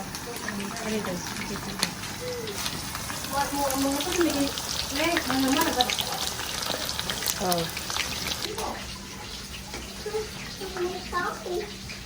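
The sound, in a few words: chicken frying in hot oil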